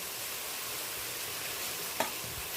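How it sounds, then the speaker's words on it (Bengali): Spice paste with ground coriander and Kashmiri red chili powder being stirred with a little water in a frying pan for a katla fish curry with potato and pointed gourd, giving a steady soft sizzle with one brief scrape of the spoon. "অল্প জল দিয়ে মশলাটাকে ভালো করে আমি নেড়ে নিচ্ছি।"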